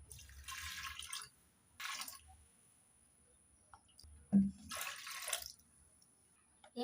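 Water poured from a cup into lentils in a pressure cooker for sambar dal, coming in several short splashing bursts separated by quiet pauses, close and soft.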